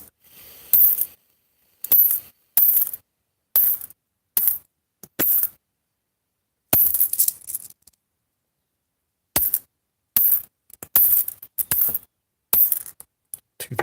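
Nickels clink and clatter in repeated short bursts as they are sorted by hand, sharp metallic jingles separated by brief silences.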